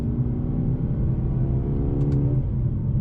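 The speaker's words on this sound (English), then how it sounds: "All right, so driving the Mercedes-Benz CLA35 AMG." A 2020 Mercedes-Benz CLA35 AMG drives on the road, heard from inside as a steady low engine hum and road rumble, with a faint brief tick near the end.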